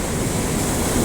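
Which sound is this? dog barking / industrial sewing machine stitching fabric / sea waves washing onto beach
sea waves washing onto beach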